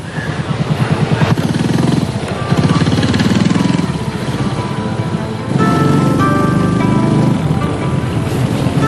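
A Honda Dream motorcycle engine runs steadily and loudly up close, its throbbing idle and revving holding through the whole stretch with slight dips and surges, no voices over it.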